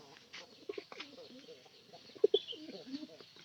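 Pigeons in a loft give soft, throaty coos in short rolling bursts, several overlapping calls close by, with a couple of sharper notes in the middle and quiet room noise between them.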